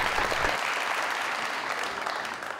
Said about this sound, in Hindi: बहुत सारी तालियों में